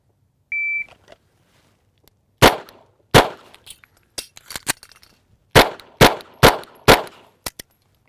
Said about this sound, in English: this time I'm gonna shoot it again, the attempt for a hat pin run